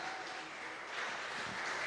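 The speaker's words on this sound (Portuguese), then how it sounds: "Você pode aplaudir o Senhor?" A church congregation applauds during a sermon, a faint, steady patter of clapping heard from a distance for a couple of seconds.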